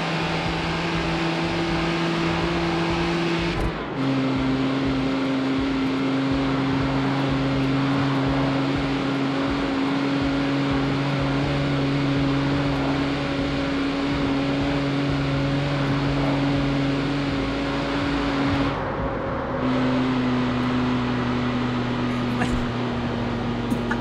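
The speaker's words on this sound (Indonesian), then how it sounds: "Fix dari suara mesinnya emang mobil harian, tapi ini mobil-mobil retro zaman dulu loh." A retro car engine in the street-racing game CarX Street drones steadily at a low idle hum, shifting pitch slightly a couple of times, loud and continuous.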